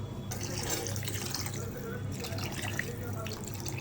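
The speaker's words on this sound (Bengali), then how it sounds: "তো বেশ কিছুটা পানি দিয়ে দিলাম" Water pours steadily into a cooking pot for a rohu fish and vegetable curry, a continuous splashing rush with faint background voices.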